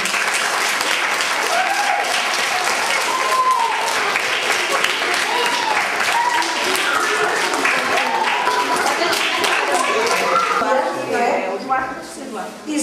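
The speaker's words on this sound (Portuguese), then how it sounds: "Eu acho que nós vamos dar outra salva de palmas para eles." Sustained audience applause for schoolchildren at a presentation, dense steady clapping from a crowd with voices mixed in, tapering off near the end.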